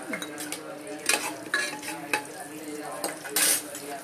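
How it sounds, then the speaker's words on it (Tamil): Mustard seeds and curry leaves sizzle in hot oil in a pressure cooker on the stove, with a metal spoon stirring and clinking against the pot in sharp, irregular scrapes and taps over a soft frying hiss. "எண்ணெய் காஞ்சோன்னா கடுகு, கருவேப்பிலை,"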